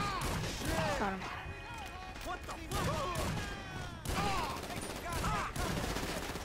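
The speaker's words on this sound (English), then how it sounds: "Shooting him with my carbine rifle, and it's not really killing much." Carbine rifle fire in Grand Theft Auto V during a prison break heist setup, with dense overlapping shots, explosions and game effects throughout, continuous and busy.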